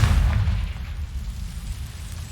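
A Confringo spell explosion in the Hogwarts Legacy video game lands as a deep, loud boom at the start, then fades into a rumbling tail.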